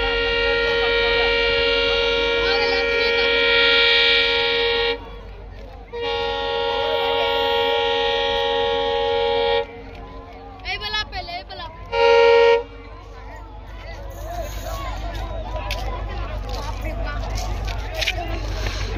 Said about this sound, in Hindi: ट्रेन आने ही वाला है खुटौना में गाइस